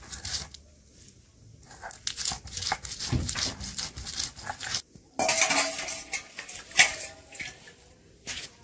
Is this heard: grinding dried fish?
yes